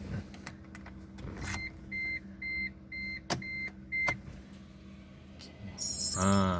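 Inside a 2020 Proton Saga, a series of electronic beeps sounds in a regular pattern, then the engine cranks and starts with a rising whir near the end. Someone speaks briefly.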